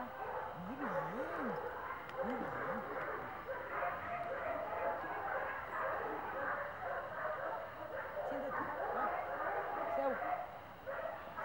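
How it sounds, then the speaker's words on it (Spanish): A dog barks and yips in short bursts near the camera, its calls rising and falling in pitch over a steady background with people talking. "El perro por el lado de la cámara."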